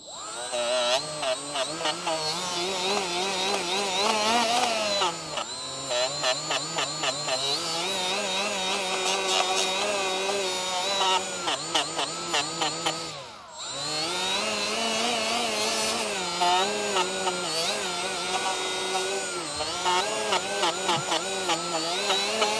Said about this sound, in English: So now we're gonna clean the contact area. We're gonna clean off all the rust here.